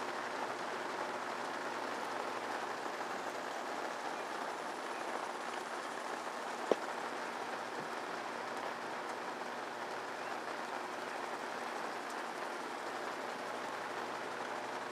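Steady rain falls around an outdoor hot tub in Breckenridge as an even, broad hiss with no letup, fairly soft, with one brief click partway through and no talk.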